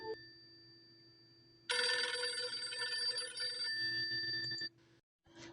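A telephone rings at a children's lesson on modelling gifts for a squirrel, a loud, steady electronic bell burst of about three seconds that cuts off, followed by quieter fragments with no talking.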